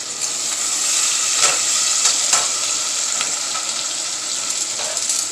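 Sofrito hits a hot pot with a dense, steady sizzle and hiss, punctuated by a few soft stirring knocks, close and fairly loud with no talking.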